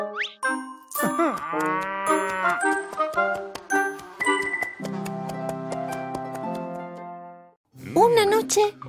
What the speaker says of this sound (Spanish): con el dinero que ganó, compró una vaca